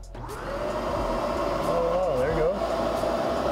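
A vacuum cleaner motor spins up and runs with a steady whine and airy rush while drying shoes in a lidded container, with a voice speaking briefly over it.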